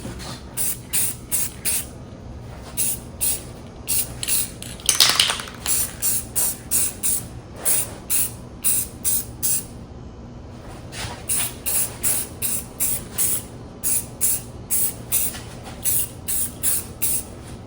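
Rust-Oleum matte clear spray paint hissing from an aerosol can in short, evenly spaced bursts, a brief pause in the middle, then another run of quick sprays, close and fairly quiet.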